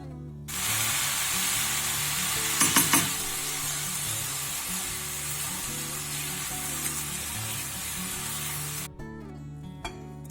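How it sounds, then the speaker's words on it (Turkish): Eggplant sautés in a hot pan with a loud, steady sizzle and hiss that starts abruptly and runs continuously, with a few brief clattering stirs partway through, then cuts off near the end. "Biraz da patlıcanla birlikte kavuralım."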